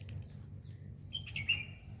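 A sparrow in a small garden gives a few brief, fairly faint chirps near the end, over a steady low background hum.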